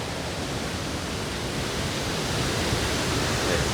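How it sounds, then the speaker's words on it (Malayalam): Steady, loud roar of the Ezharakund waterfall in the Paithalmala valley, a dense unbroken rush of falling water with no voices over it. "ഇവിടുന്ന് വെള്ളച്ചാട്ടം തുടങ്ങുകയാണെന്നാണ് എൻ്റെ ഒരു ധാരണ"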